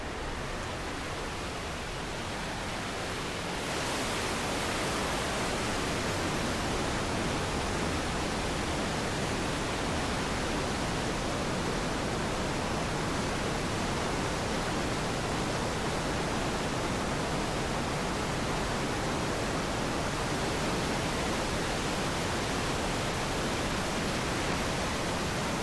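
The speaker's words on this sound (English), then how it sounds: "we take a warm-up stroll to check out Della Falls, one of the tallest waterfalls in Canada" Della Falls, one of Canada's tallest waterfalls, makes a steady broadband roar of falling water that swells after a few seconds and then holds loud and unbroken.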